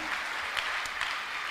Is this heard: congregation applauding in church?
yes